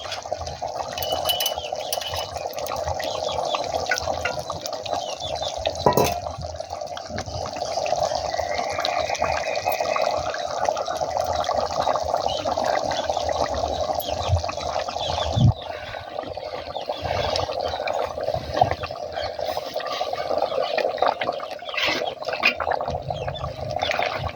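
Tamarind juice poured into a simmering mango fish curry in a pot, a steady close liquid pouring and bubbling sound that runs on for a long stretch with small splashes, and no talking.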